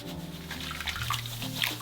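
Soda ash being mixed straight into water, heard as close sloshing and swirling liquid with small splashes and bubbly trickles over a low tonal hum, uneven and busy throughout.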